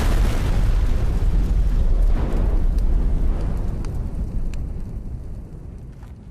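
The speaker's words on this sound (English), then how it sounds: "the Germans themselves blew, and it took his charge with their own explosion" Massive blast of an underground mine charge in a World War I tunnel on the Somme: a deep, heavy rumble that roars loudly at first, then slowly fades away with faint crackles.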